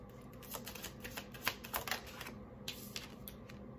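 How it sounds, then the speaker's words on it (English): Tarot cards being shuffled and pulled in a quiet indoor setting, a run of soft, fast papery clicks and flutters with a few sharper snaps, close and fairly faint, with no voices. "So we're going to pull about six cards."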